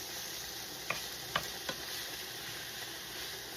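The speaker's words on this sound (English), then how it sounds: "Our pan is sizzling already, just the way I like it." Faint, steady frying hiss from a hot pan of searing beef steak, with a few soft clicks and crackles popping through near the middle.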